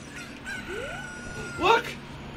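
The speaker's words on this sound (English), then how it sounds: "A chicken! It's a chicken, MC!" Chicken in a Zelda game, a short crowing cluck that rises and peaks near the end, heard over a faint background tone and tune.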